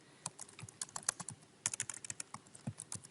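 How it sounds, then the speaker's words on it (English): Brisk, uneven keystrokes on a computer keyboard while entering data into statistics software, quiet and close, with no voices. "And I'm just typing it in"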